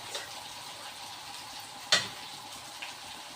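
Garlic frying in a pan gives a steady, soft sizzle, broken by one sharp clatter midway and a lighter knock near the end.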